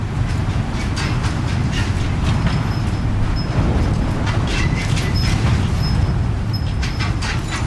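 A monorail train in Death Stranding 2 rolls steadily along, a continuous low rumble with faint rhythmic rattling and light high clicks, holding a constant level throughout with no one speaking.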